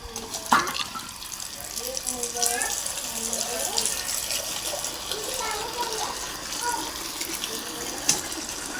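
Contaminated drinking water running from a tap in a steady stream in Viramgam, with a person talking over it and a couple of sharp knocks.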